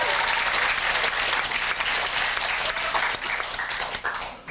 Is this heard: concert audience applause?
yes